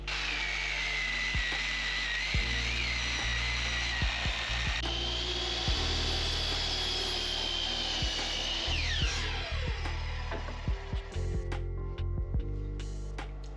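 Power saw cutting a piece out of a wooden board for a van bed frame, a steady whining cut with irregular knocks and clunks, fairly close and continuous.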